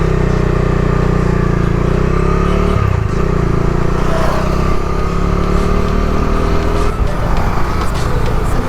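A Bajaj Dominar motorcycle roars along a road on a touring ride in Assam, its engine loud and close with steady droning revs, shifting pitch and constant wind rush.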